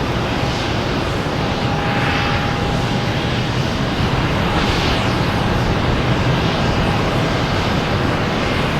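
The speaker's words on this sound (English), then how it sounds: "And we have Canadian Airlines coming in from Toronto." A Canadian Airlines plane arrives from Toronto at Boston Logan Airport, its engines giving a steady, loud, broadband roar that holds for the whole stretch with no talk over it.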